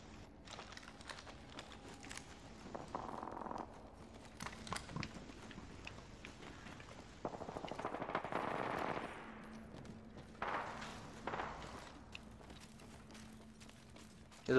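Scattered gunfire from a distant fight in Apex Legends, bursts of automatic fire and single shots popping up intermittently over a quiet background, with a longer rattling burst in the middle and faint game ambience between.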